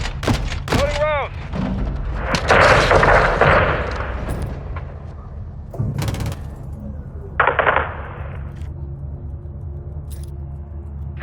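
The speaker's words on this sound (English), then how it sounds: "Seeing small arms fire from the gas station." Gunfire in the video game Modern Warfare II campaign, with small arms fire around a gas station: sharp close shots and bursts of automatic fire among thuds, with radio-style voices talking throughout.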